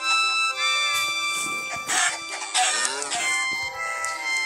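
Chickens clucking in the Minecraft video game, with repeated short game-style clucks and squawks over a steady background of music, moderately loud and with no talk.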